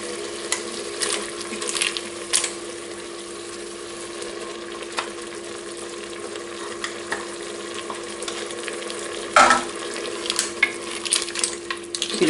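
Fried tomato goes into a pot of fish rice being made in a GM electric cooker, giving a steady close sizzle with scraping spoon strokes and a few clinks of stirring, no talk.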